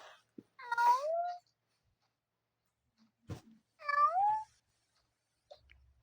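A cat meows twice, each a clear, close drawn-out cry with a rising tone, separated by quiet and a brief knock.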